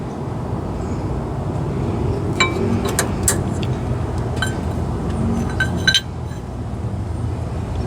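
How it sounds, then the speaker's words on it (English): Metal brake pads on a 1997–2004 Ford F-150 are pulled off the caliper, giving several sharp clinks and taps over a steady background hum, with one louder knock near the end. "Now here's the brake pads. Just pull them off."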